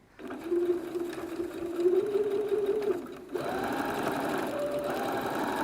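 A sewing machine stitches along a quilt channel with a steady, fast mechanical whir that pauses briefly, then resumes at a slightly different pitch, close by and alone without speech.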